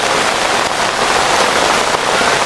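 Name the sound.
heavy rain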